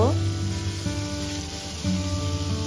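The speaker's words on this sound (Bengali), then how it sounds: "এখন ওই তেলের মধ্যে দিয়ে দেব, একটু 2 মিনিট ভেজে নেব।" Pieces of morala fish, rubbed with salt and turmeric, sizzle in hot oil in a home kitchen, a soft steady frying hiss beneath louder background music.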